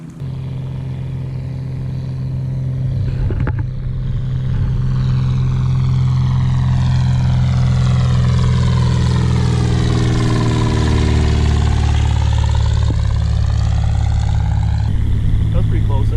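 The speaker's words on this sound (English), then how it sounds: "there should be a plane coming right over top of this island here in a second" A propeller plane passes low overhead above an island, its droning engine swelling loud and close with a sweeping pitch change as it goes by, voices briefly audible early on.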